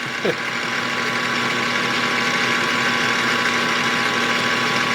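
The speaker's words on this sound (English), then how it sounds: "The Atkinson cycle engine, that thing starts so easy." A small model Atkinson cycle engine runs nearby with a loud, constant buzzing hum and steady tone, unbroken and alone throughout.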